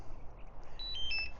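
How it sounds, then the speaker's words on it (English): A few short, thin electronic beeps from DJI drone goggles sound in quick succession, small and close, over a quiet background hum. "Oh, my goggles are beeping."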